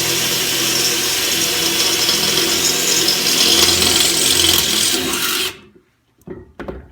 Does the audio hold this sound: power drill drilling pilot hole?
yes